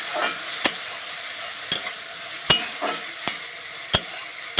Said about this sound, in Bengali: একটু সামান্য জল দিয়ে আমি ভালো করে আবার একটু নাড়িয়ে দিচ্ছি।